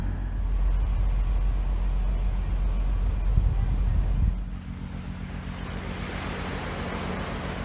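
Water surges and washes as the LHA-7 ship slides afloat from a floating dry dock, a broad rushing roar that drops to a softer, steady wash, with a voice talking over it.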